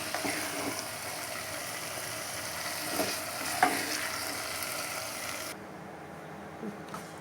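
Bhuna til gosht, a dry-fried sesame mutton masala, being dished out of the pan: low sizzle with a few spoon scrapes and clinks, the frying hiss dropping away near the end.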